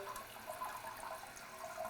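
Water drains from a toilet bowl and the tank refills during a leak-tab test, a steady faint watery rush and trickle with no talking.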